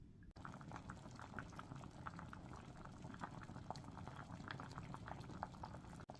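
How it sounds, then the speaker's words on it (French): Steady bubbling and gentle popping of fisherman's soup simmering in a covered pot over medium-high heat, a continuous low burble with soft intermittent pops, no voices. "Refermez la casserole et laissez tout ça gentiment mijoter,"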